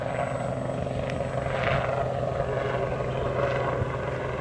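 A radio-controlled model Agusta helicopter flies at a model flying field, its steady, even rotor and engine drone holding throughout with no talk.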